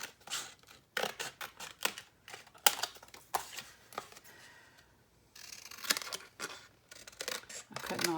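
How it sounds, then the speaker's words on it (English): Repeated sharp snips of scissors cutting through material, close and irregular in rhythm, with quiet rustling between cuts. "I'll just use my scissors."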